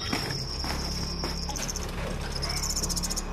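Crickets kept as live feed beside a starling enclosure chirp constantly, with a close, continuous high trilling and no break.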